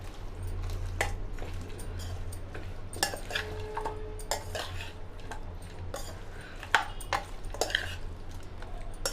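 Chicken being mixed by hand with masala and fried-onion oil for Hyderabadi biryani, with close, irregular wet squishes and stirring and occasional light clinks of a utensil against the dish.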